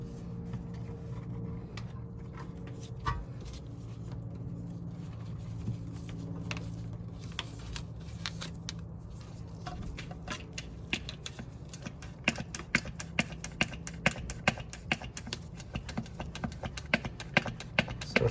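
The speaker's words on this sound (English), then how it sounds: "So you're just gonna pump, pump, pump" Rapid rhythmic clicking from a hand pump screwed onto a bottle, pushing manual transmission fluid into an Acura NSX gearbox. The strokes grow quicker and sharper toward the end, set close against a steady low hum.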